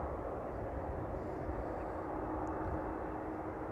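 A jet airliner beginning its takeoff roll at Amsterdam Schiphol Airport, heard as a steady, distant broadband engine roar that holds at an even level throughout.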